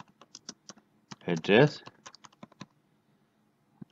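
A computer keyboard is tapped out in short bursts of close, light key clicks while typing into a notepad file, with a brief spoken word in the middle.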